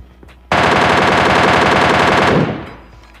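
MK14 rifle firing on full auto in PUBG, a loud, dense burst of rapid shots lasting about two seconds after a quiet start, then fading out.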